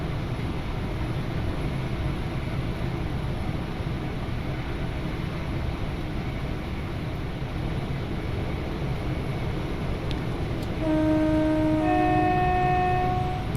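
A Class 37 diesel locomotive in a simulated 1990s Midland Main Line setting rumbles steadily beneath a constant cab drone, then sounds a loud two-tone horn blast near the end.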